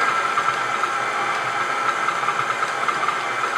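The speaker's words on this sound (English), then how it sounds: "Just mix it here, medium-low speed for just about 30 seconds, just to get that butter moving around." A stand mixer runs at medium-low speed, beating butter with its paddle, giving a steady close motor hum with a faint rattling texture and no pauses.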